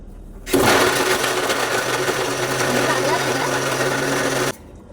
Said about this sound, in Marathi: मिक्स करते आणि मिक्सरला लाव.